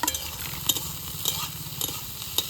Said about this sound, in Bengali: এবার এইভাবে কিছু কিছুক্ষণ নাড়াচাড়া করে একটু ভেজে নেব